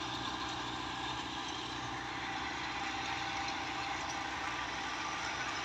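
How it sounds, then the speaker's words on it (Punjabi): A tractor fitted with a rotavator runs in a field, its engine holding a steady, even drone at close range with no pauses and no voices. "ਇਹ ਚੈੱਕ ਕਰ ਲਓ ਟਰੈਕਟਰ ਦੀ ਆਵਾਜ਼ ਵਗੈਰਾ"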